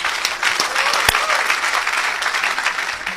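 A church congregation claps together in steady, dense applause, with a few sharper individual claps standing out and faint voices mixed underneath.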